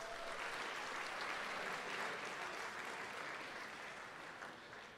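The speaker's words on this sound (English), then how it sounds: "let's give him a round of applause" An audience at a Tabor College athletics awards event gives a steady round of applause, faint and distant, holding evenly for several seconds before tapering slightly at the end.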